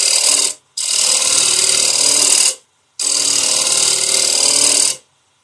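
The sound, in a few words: negative rake scraper cutting on a lathe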